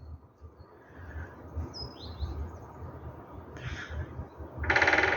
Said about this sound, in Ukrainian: Як дзьобом по дереву.